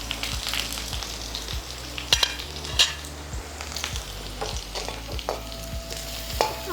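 Rampe (pandan) leaf pieces fry in a pan for a Sri Lankan stuffed chili pepper curry, with a steady sizzle, spoon scrapes and a few sharp clinks of stirring.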